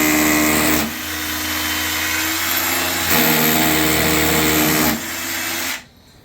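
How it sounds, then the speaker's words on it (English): A power drill bores at a steep angle during bathroom plumbing work on a rusted toilet flange and faucets, its loud, steady motor whine running with slight pitch shifts before winding down and stopping near the end. "This is the pitch you're gonna have to drill."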